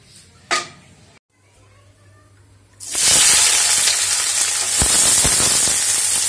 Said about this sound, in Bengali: তো এখানে তেল গরম হচ্ছে, আজকে সর্ষের তেল দিয়েছি